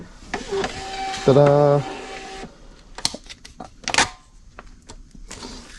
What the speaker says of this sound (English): So all we got left to do is print this label out.